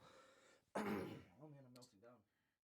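A single sharp, forceful cough close to the mic, followed by a brief murmur of voice before it trails off into quiet.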